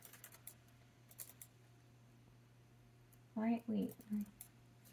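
Typing on a computer keyboard, a few soft clicks and short bursts of keystrokes, faint, with a person speaking briefly near the end.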